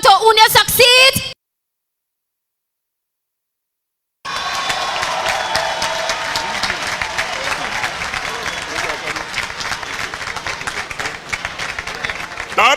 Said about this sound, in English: Let's continue the applause.